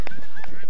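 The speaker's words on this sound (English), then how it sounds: "Right, there's geese everywhere." Geese honking loudly and close by, a quick pair of sharp nasal honks in a short burst with no other sound.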